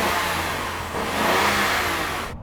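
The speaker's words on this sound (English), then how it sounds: "I think you get more intake noise, actually, than exhaust." Car engine revving hard in a drag-race sound check, a loud continuous roar dominated by intake noise that swells mid-rev and cuts off abruptly at the end, close by with no talk.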